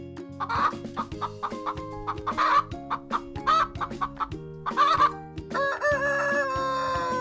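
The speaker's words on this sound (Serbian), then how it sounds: "Kada koka snese jaje ili doziva piliće," A hen clucks in a quick series of short, clear calls, fairly close, over steady background music; there is no talking.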